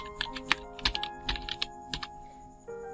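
Typing on a computer keyboard, a quick irregular run of close, crisp key clicks with brief pauses in an otherwise quiet room.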